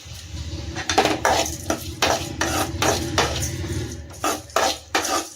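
Tomatoes sauté in a hot pan while a spoon scrapes and stirs them repeatedly in an irregular rhythm, with a soft sizzle underneath, close and fairly loud, no talking.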